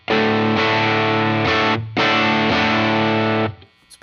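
Electric guitar played through a Lytt Effects Rosie drive pedal set to medium gain: two loud, sustained distorted chords ringing in succession with a short gap between them, then a quick fade.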